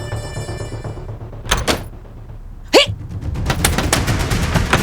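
A door is shut quietly, giving a few short thuds and clicks over a low background hum, with no talk.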